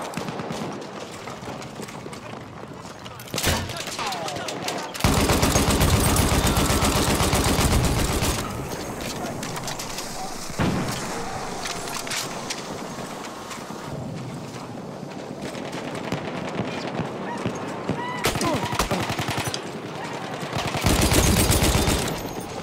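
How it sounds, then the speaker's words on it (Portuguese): Machine gun fire in an Xbox One X video game, with dense bursts of rapid shots that swell and fade over a steady, loud battle din and no talking. "Maschinengewehr!"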